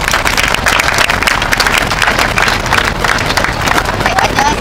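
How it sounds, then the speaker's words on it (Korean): A crowd at an outdoor hunger-strike rally applauds to welcome a citizen speaker. The clapping is a dense, continuous wash that stays loud and steady throughout. "박수를 맞아주시면 고맙겠습니다."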